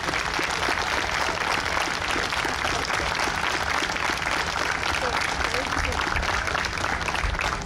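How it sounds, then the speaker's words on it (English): Outdoor crowd at a state police special operations team demonstration gives a sustained, even round of applause, a dense wash of clapping holding steady throughout with talk mixed in. "we think it's those guys that deserve a real round of applause today"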